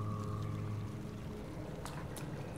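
Water in the Hollow Knight video game, a steady low pouring, gurgling wash with a brief higher hum early on and a couple of faint splashy ticks, continuous throughout.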